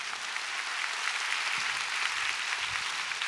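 A lecture audience gives steady, sustained applause, a dense wash of clapping heard from within the hall, fairly soft and even with no talking over it.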